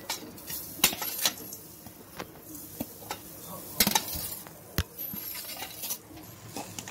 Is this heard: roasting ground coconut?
yes